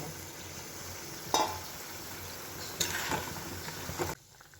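A pot of sour curry with fish roe fritters about to go in bubbles and simmers with a steady soft hiss, broken by a few brief clinks of a utensil, before the sound drops away abruptly near the end.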